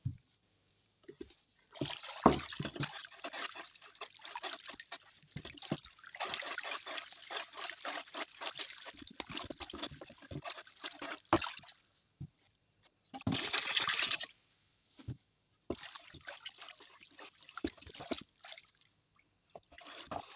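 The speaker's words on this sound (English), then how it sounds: "I'll add more alcohol to clear it" Alcohol is poured into a cloudy homemade Dettol-style antiseptic mixture, giving irregular trickling and splashing bursts of liquid with short pauses between pours and one louder gush near the end, no voices.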